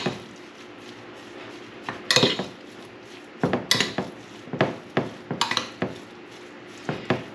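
Deer jerky meat being stirred in a bowl, with a series of clinking, scraping knocks of utensil against dish at an irregular rhythm, close and moderately loud, with no talking.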